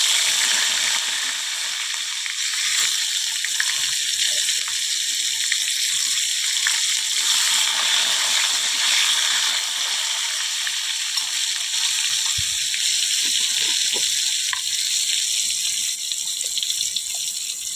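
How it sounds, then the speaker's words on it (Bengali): Pointed gourd pieces fry in a pan with steady, fine sizzling and hissing, a continuous crackle over the whole stretch with a few small clicks and knocks, and no talking. "এবারে পটলগুলো একটু ভেজে নেব।"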